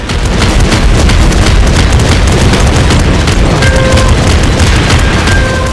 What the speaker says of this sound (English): This is our Gatling bazooka putting in the work.